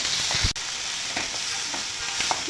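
Onions sautéing in a pan for mint chutney make a continuous close sizzle, with a sharp knock near the start and soft stirring scrapes after it, and no one talking.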